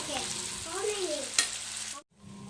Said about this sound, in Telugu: నూనె వేడెక్కినాక ఉల్లిపాయలు వేశానండి వేగుతున్నాయి ఉల్లిపాయలు చక్కగా వేగుతున్నాయి